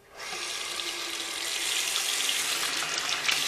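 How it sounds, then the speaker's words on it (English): Warm water runs from a sink tap to wash a paintbrush after painting, a steady close hissing gush that starts abruptly and grows slightly fuller, with no talk. "I'm going to run the warm water."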